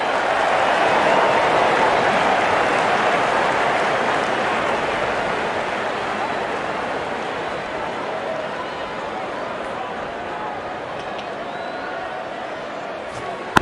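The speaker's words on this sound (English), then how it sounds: "Goes to a splendid 50. Good innings and gets a grand applause." Crowd applause at an India vs England T20 cricket match as a batsman reaches fifty: a dense, sustained roar of clapping from a large stadium crowd, loud at first and slowly easing over about fourteen seconds.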